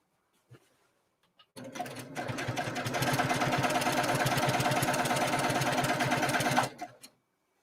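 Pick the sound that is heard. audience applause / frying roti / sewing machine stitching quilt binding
sewing machine stitching quilt binding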